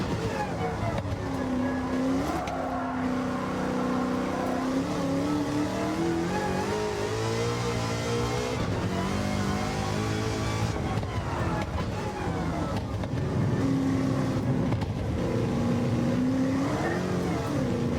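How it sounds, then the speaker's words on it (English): A Roadster Shop Road Rage Camaro race car's engine roars around a circuit, rising and falling in pitch as it accelerates and shifts through corners, loud and continuous, with engine tone dominating throughout. "I'm going to shut up so that you can hear the engine a little bit more."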